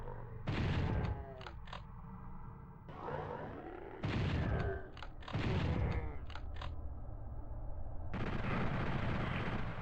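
Gunfire in Final Doom played on an original PlayStation, several sharp loud bursts with reverberant tails and short clicky echoes, spaced a second or two apart over a low rumble, with no talking.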